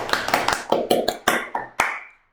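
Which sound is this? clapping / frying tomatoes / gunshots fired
clapping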